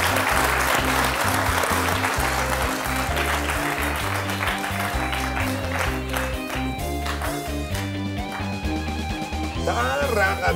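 Studio audience applause at a comedy game show, continuous clapping blended with loud rhythmic music and crowd noise throughout.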